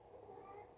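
A cat named Harry meows close by in a single short, soft, drawn-out call, with quiet room tone underneath.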